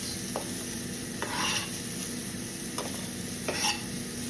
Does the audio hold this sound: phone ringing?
no